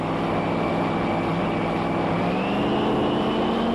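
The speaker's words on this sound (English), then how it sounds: "Just listen to the horsepower and the revs of these machines." Drag racing cars at the 1993 Winternationals at Willowbank Raceway hold a loud, continuous engine roar with a steady droning pitch, rising slightly, with no voices.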